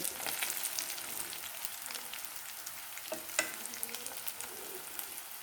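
Masala fish pieces sizzle steadily in a hot pan, a dense crackling fry with occasional sharper pops and no talking.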